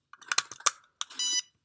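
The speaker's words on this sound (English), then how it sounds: "Oh, it beeped." An electronic device gives a quick run of short chirping beeps, then a brief pause and a longer, steady electronic tone, close and clear.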